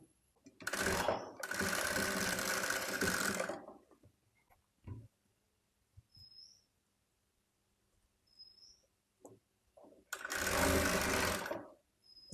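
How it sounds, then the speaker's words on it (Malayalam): A sewing machine stitches a baby frock in two loud, steady runs of rapid mechanical whirring, with a long pause between them filled by faint clicks and small chirps. "ഇതൊന്ന് സ്റ്റിച്ച് ചെയ്തിട്ട് എടുക്കാം കേട്ടോ"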